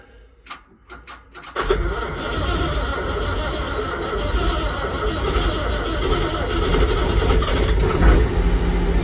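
A Massey Ferguson 1250 tractor that has sat unused for a couple of weeks cranks with a few clicks and short bursts, then fires and settles into a loud, steady, rough diesel idle close by.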